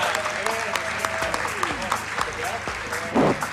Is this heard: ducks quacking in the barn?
no